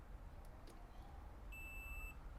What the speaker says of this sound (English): see it's beeping